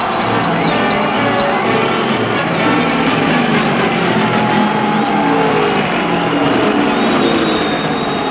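Loud, dense roar of a delirious crowd at the 1975 Darlington Rebel 500 stock car race, cheering steadily throughout and mixed with the drone of racing engines.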